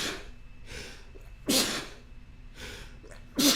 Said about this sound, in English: I always sneeze in fours